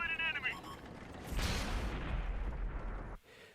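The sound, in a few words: tank cannon shot from VK-3601H in World of Tanks video game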